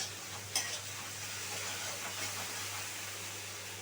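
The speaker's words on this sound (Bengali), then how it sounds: "এবারে আমি গ্যাসটা একটু হাই করে মশলাটা কষিয়ে নেব" Masala fries on a high gas flame for rui fish in poppy seed paste, a steady close hiss of sizzling oil with a brief scrape of stirring early on and no voices.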